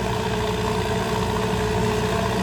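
A Kartar tractor engine idles steadily, a loud continuous rumble with no change in pace throughout.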